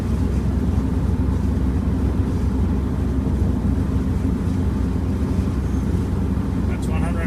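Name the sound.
Subaru EA82T turbo car cruising at 110 at even throttle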